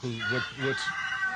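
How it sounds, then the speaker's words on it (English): A rooster crows in a short burst, followed by brief clucking sounds. A voice speaks briefly over it. "The first one is a real rooster crowing."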